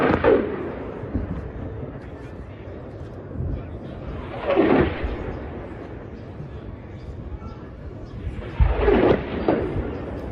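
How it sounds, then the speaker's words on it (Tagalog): Hamas rockets launched in rapid succession from Gaza City roar off in three separate bursts, each a rushing, blast-like swell rising over a low, noisy background. "Kita sa video na sunod-sunod ang pagpapakawala ng rocket ng Hamas mula sa Gaza City."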